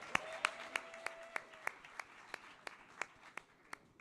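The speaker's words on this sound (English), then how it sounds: "Give her another round of applause" At a live music awards show, sharp, evenly spaced claps sound at a steady beat of roughly three per second, crisp and fairly close against a quiet room.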